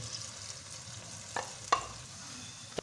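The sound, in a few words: tomato paste and spices frying with browned onions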